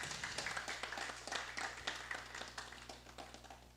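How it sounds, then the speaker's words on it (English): Scattered audience clapping at an investment scheme launch, individual claps distinct and rhythmic over a low steady hum, fairly faint and thinning slightly toward the end. "so can you all in unison applaud?"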